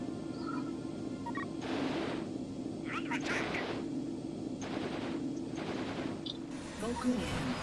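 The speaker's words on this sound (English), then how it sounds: "Vulcan cannon." A Vulcan cannon fires in the mech game Battle Engine Aquila, several bursts of rapid fire spaced a second or so apart over a steady engine hum, with someone talking throughout.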